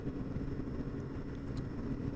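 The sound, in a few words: 1600cc motorcycle engine running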